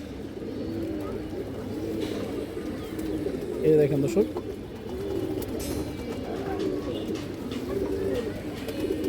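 Old-bloodline racing and high-flying pigeons coo softly on a farm, a low, continuous burbling from several birds beneath a voice.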